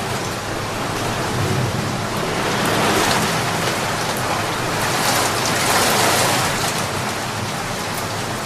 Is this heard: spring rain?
yes